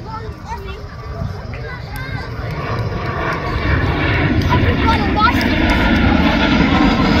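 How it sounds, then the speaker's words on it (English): Turbojet-engine aircraft flying at an air show, a rising roar that swells steadily as the plane approaches, with crowd chatter and people talking beneath it. "That's a turbojet engine, isn't it?"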